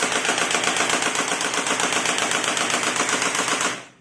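An AK47 rifle fires one long automatic burst of rapid, evenly spaced, loud shots that runs for nearly four seconds before stopping abruptly.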